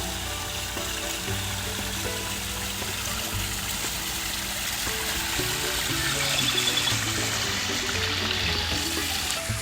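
A backyard waterfall pours over stacked rocks into a pond, a steady, dense rush of splashing water that holds constant and loud throughout with no voices.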